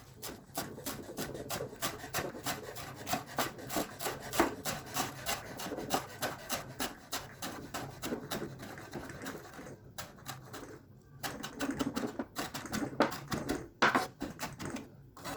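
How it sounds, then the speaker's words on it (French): Knife chopping fresh coriander on a board while preparing a stuffing for roast leg of lamb, a fast steady run of close, crisp taps with a few short pauses. "On va préparer la farce. Donc on va hacher la coriandre."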